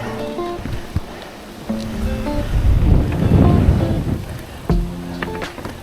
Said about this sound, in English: It's getting windy out.